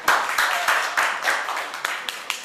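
An audience at a science fiction convention talk applauds, a short burst of dense clapping that stays fairly steady and close, with no voices on top.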